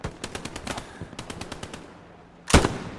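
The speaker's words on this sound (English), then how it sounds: "There's an MG overlooking this." Machine-gun fire in the WWII shooter Hell Let Loose, with rapid bursts of shots in quick rhythm, a short lull, then a loud close blast near the end.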